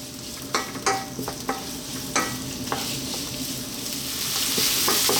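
Onions fry over lively heat in sunflower oil in a wok, a steady close sizzle broken by several sharp scraping knocks of stirring, the frying hiss swelling louder near the end.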